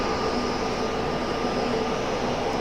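A Boeing 767 airliner taxiing at Raleigh-Durham airport gives a steady, broadband engine roar and whine, constant in level and fairly close, with no talking.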